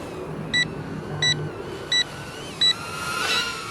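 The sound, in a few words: drone low battery alarm beeping, Potensic A20W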